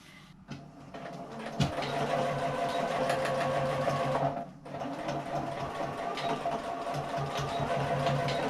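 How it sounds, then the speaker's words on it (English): A sewing machine runs steadily, stitching two lines on a fabric hand sanitizer pouch, with one brief pause partway through. "I'm going to go to the machine and stitch on those 2 lines"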